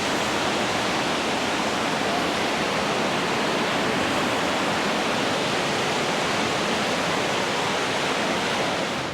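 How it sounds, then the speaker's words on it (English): Raging river rapids at McConnells Mill in Moraine State Park roar as a loud, constant broadband rush of churning water, steady throughout with no breaks. "sit and appreciate the raging rapids"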